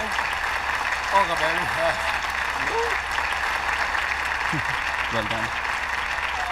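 An audience applauds steadily at a comedy scene, a dense wash of clapping that runs the whole time beneath several people talking over it.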